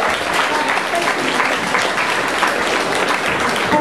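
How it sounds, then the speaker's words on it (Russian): An audience at a school contest on the history of Islam in Crimea gives a dense, sustained round of applause, steady and fairly loud throughout. "Аплодируем ей."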